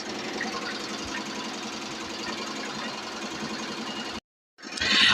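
A Tajima Sai 8-needle embroidery machine stitches a date onto an heirloom blanket with a rapid, steady mechanical chatter and hum, then cuts off abruptly near the end before resuming.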